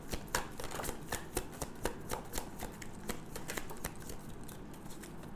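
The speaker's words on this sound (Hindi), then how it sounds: "हमेशा की तरह मैं एक ही शफल करूंगी" Tarot cards are riffled and shuffled in a steady run of quick, crisp flutters and soft slaps, fairly close and faint, with no talking.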